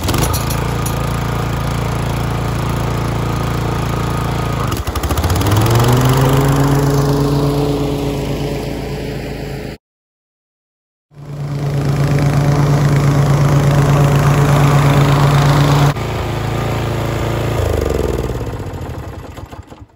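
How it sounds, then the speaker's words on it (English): A Timemaster lawn mower mowing a lawn, its engine a loud, close, steady droning roar that pitches down as it loads, cuts out briefly, then resumes strongly before dropping again near the end. "Alright, let's mow."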